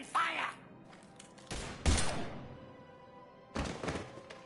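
Heavy impacts and bursts of weapon fire in Mass Effect 3, a few loud separated blasts with reverberant tails and quieter gaps between them.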